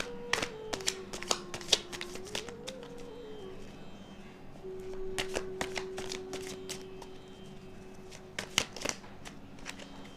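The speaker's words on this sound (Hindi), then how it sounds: "मैं पहले सोच रही हूँ कि पहले शफलिंग ही कर लेती हूँ, आप लोग के लिए कार्ड्स निकाल लेती हूँ" Tarot cards shuffled by hand at close range, bursts of crisp riffling and snapping in irregular clusters, with a steady faint hum underneath.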